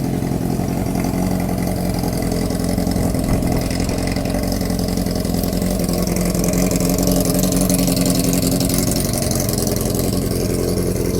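A 1979 Kawasaki KZ650 motorcycle engine runs steadily at idle, loud and close, with a continuous even rumble and no pauses.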